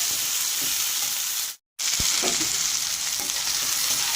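Potatoes with garlic paste are stirred in a frying pan, giving a loud, steady sizzle with soft scraping strokes. The sizzle cuts out completely for a moment, then carries on.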